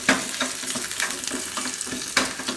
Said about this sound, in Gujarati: તો થોડીક વાર એને આ રીતે તેલમાં શેકી લેવાનું.